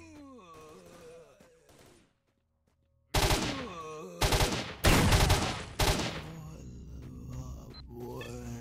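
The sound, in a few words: assault rifle gunfire in video game S.T.A.L.K.E.R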